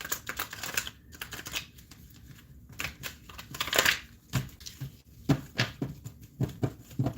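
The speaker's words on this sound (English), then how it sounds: "Let's give this one more a decent shuffle" A deck of tarot cards gets shuffled by hand, soft, irregular riffling and slapping bursts, fairly quiet and close, with brief pauses between flurries.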